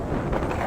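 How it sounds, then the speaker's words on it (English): Gusty wind buffets the microphone outdoors by a river and bridge while someone skates, a steady close low rumble lasting throughout with no speech. "It's really windy out here, so I'm sure you can hear that on the video."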